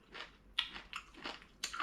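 Cooked green beans stir-fried with oyster sauce are crunched and chewed close to the mic in a few short, quiet bites.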